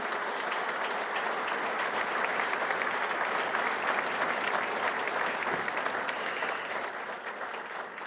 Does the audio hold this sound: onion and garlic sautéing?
no